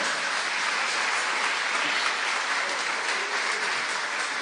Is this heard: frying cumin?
no